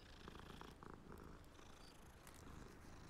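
A cat purring in the video game Hogwarts Legacy, a continuous low rumbling purr that stays close and steady throughout, with faint clicks above it and no talking.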